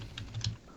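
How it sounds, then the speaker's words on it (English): Quick light keystrokes on a computer keyboard during a Skype chat, a few soft taps in close succession, faint and without voices. "they're typing away in the Skype chat"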